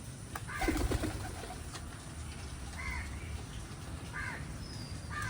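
Soft pigeon calls sound a few times over a steady low background hum, with one brief louder call early on; faint and somewhat distant, as pigeons gather to drink water.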